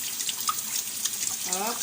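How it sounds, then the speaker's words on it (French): Cold water runs from a kitchen tap over a pan, a close, steady splashing hiss with small drips, briefly changing pitch as the stream hits the pan. "je fais couler le robinet à eau froide"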